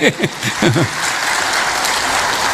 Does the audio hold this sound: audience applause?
yes